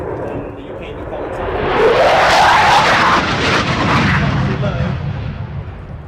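A Eurofighter Typhoon fighter jet roars past, swelling to a loud, rasping crescendo with a sweeping pitch shift before easing off, with someone talking over it.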